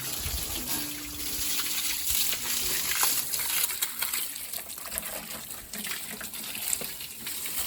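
Water gushes from a pipe while filling, a loud, steady rushing and splashing that continues throughout with no talk over it.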